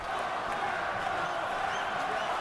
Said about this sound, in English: The crowd trying to urge on Pascal